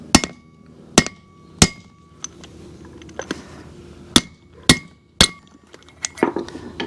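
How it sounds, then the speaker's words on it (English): Sharp metallic hammer strikes ring out at irregular intervals, some louder than others, tapping a wheel bearing race into place close by on a 2008 Ford Ranger. "You just want to make sure that you're hammering these in straight."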